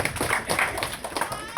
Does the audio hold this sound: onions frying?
no